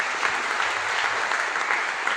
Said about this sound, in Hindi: मोदी केयर के लिए जोरदार तालियां